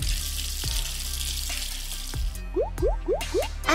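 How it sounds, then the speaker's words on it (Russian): Shower water in a Pou-style pet-care video game: a spray of running water under steady game music, with a few low thumps and then a quick series of bright rising bubbly blips near the end. "А теперь душ."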